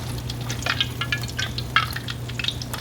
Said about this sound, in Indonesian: tepung yang sudah kita siapkan, kemudian digoreng seperti ini